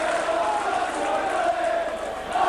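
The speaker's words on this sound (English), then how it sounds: "Well appreciated by this Saints crowd" A St Helens Saints rugby league crowd at a home match against Widnes applauds and roars steadily, a dense, loud wash of clapping and voices that holds without a break.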